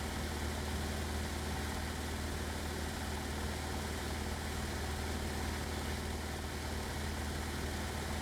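A light aircraft's piston engine in cruise, leaned to about 5.8 gallons an hour at around 2450 rpm, holds a loud, steady drone with a constant low hum and no pauses.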